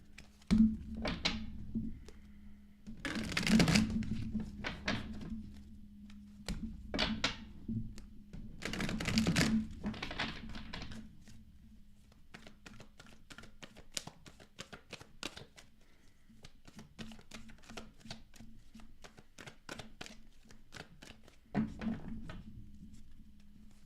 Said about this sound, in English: Let's get the main deck shuffled for water signs.